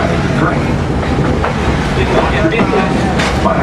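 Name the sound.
Walt Disney World Railroad train running on tracks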